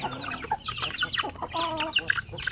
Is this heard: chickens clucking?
yes